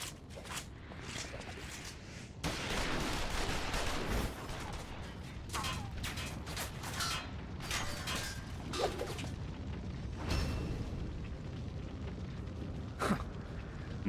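Video game gunfire: repeated sharp shots and bursts over a dense, loud background of game noise, running throughout with a few stronger blasts.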